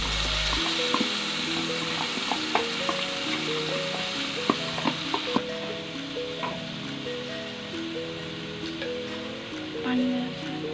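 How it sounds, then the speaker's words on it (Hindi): Yogurt spice mix sizzles as it is added to softened tomatoes for chicken achar gosht. A steady, loud frying hiss runs throughout, with light clinks from stirring and faint background music. "अब हम इसमें जो दही में मिक्स किया हुआ मसाला है वो सब डाल देंगे"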